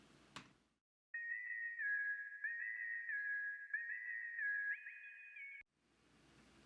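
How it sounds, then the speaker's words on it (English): A synth whistle track from a rock mix plays a clean, sustained stepping melody for about four and a half seconds, soloed and alone, with faint room sound before and after. "the last synth track we have is this synth whistle"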